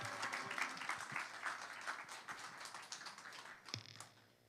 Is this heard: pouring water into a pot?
no